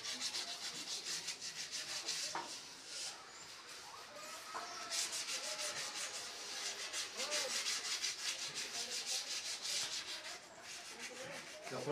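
Hand rubbing down a freshly applied shellac coat on wood during polishing, a rapid series of scratchy, rasping back-and-forth strokes, close and fairly loud, continuing steadily without pause.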